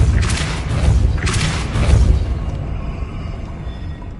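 A Depulso force spell strikes in Hogwarts Legacy to spin a mechanism and raise a platform, giving loud deep booming thuds with two bright bursts, then a rumble that fades.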